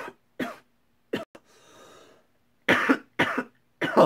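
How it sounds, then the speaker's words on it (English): A person's dry cough, several sharp, close bursts separated by silence, with a raspy breath in the middle. "the outro was interrupted by that dry cough"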